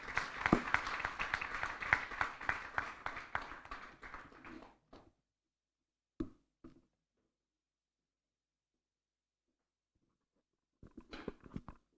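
Audience claps for the minister after her opening speech at a youth agriculture conference, a fairly faint, patter-like round of hand claps that fades out after about five seconds, with a brief scattered burst returning near the end.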